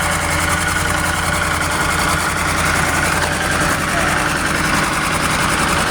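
A loud, rough White 4-175 tractor engine with exhaust leaks idles close by with a chugging, rattling rhythm and puffing exhaust, while a voice talks underneath.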